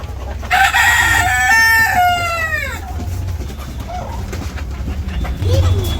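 A rooster on a village farm crows loudly and close, a long rising-then-falling call, followed by softer clucking from chickens in a noisy outdoor setting.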